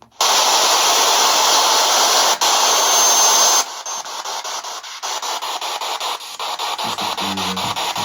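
Spirit Box ghost-hunting radio sweeping through stations, harsh loud static hiss that shifts into choppy rapid pulsing bursts, with a brief low tonal blip near the end, no talking.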